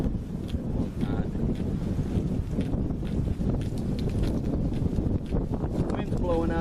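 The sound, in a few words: strong wind blowing on a mountain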